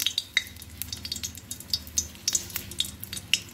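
A dried red chili dropped into hot oil in a wok gives scattered crackling pops and light sizzling, with a faint clink of a utensil against the pan, close and moderately quiet.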